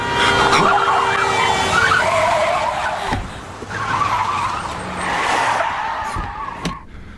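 A car's tyres skid and screech in a tense near-crash scene from a Korean film, several loud squealing bursts over about seven seconds with rumbling engine noise underneath.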